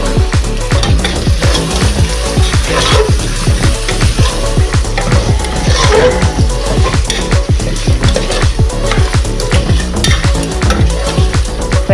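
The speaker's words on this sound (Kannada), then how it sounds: "ಅಷ್ಟೇ ಇದು ಫ್ರೈ ಆಗ್ತಿದೆ." Boiled eggs fry in a pan as a utensil scrapes and stirs in quick, repeated strokes over a steady sizzle, loud and close, while egg biryani is cooked.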